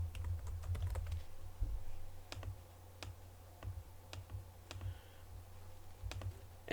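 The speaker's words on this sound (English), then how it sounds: "enter my password." Password being typed on a computer keyboard, faint irregular key clicks tapping in a quick uneven series over a low steady hum, close but quiet, with no talking.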